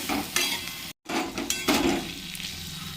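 Thin potato slices frying in a pan with salt and turmeric, a close sizzle broken by spatula scrapes and stirring strokes, with a brief dropout near the start and no voices.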